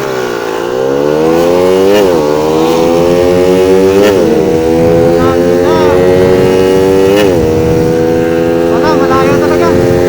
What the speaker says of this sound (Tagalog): Grabe yung tunog ng motor ko.